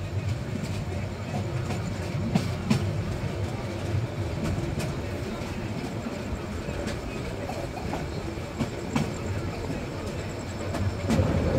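The Porjotok Express passenger train rolls along the rails into Chattogram station, giving a steady loud rumble with faint periodic clacks from the wheels, heard from inside the moving carriage.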